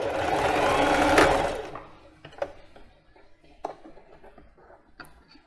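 A domestic sewing machine runs a quick reverse backstitch on plus-size underwear fabric. It gives a loud, steady mechanical whir for just over a second, then stops, leaving a few faint clicks and taps of handling.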